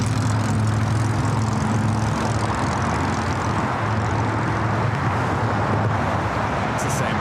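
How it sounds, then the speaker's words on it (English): Boeing 737-800 airliner taking off at LAX, a loud, steady broadband jet roar with low engine hum that holds throughout without a break. "What a difference in sound between that 737 MAX 8 taking off and this 800"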